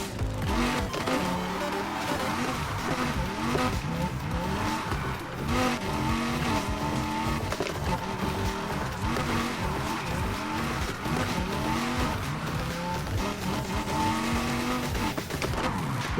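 A Lamborghini Huracan drifts in Need for Speed Heat, its engine revving up and down continuously as the tires squeal through the slide. The sound is loud and sustained, with no talking.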